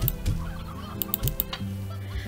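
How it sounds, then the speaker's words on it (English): Chickens clucking in the farming video game Slime Rancher, a few short close clucks in quick bursts with brief pauses, set against a soft ambient game background. "I got chickens hanging about because why not?"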